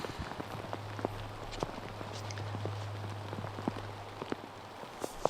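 Rain falls on a disc golf course as a steady soft patter, with scattered sharper drops and ticks at irregular moments. A low steady hum runs underneath, and no one speaks.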